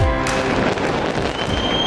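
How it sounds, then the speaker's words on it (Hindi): New Year fireworks light up the sky over Auckland, New Zealand: a dense, continuous wash of crackling and popping bursts heard from a distance, steady throughout. "न्यूजीलैंड में नए साल के आगाज के साथ ही आकाश आतिशबाजी से जगमगा उठा।"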